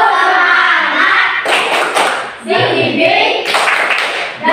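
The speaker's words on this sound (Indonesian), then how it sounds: "kita tepuk semangat. 1, 2, 3. Tepuk semangat." A school class performs a rhythmic clapping chant, loud group claps and thuds landing in bursts between chanted voices, with the whole class close by.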